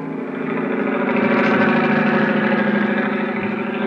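A helicopter engine sound effect from an old-time radio drama: a steady, throbbing mechanical drone that swells in over the first half-second and then holds, alone, with a rhythmic pulsing hum.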